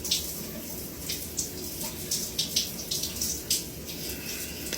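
Hot shower water runs steadily and hisses close by. Uneven splashes and spatters surge through the stream at irregular moments.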